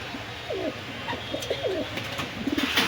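Domestic pigeons cooing at a small market sale of Pakistani and local breeds, several soft rolling coos from nearby birds over a steady background hum, no talking.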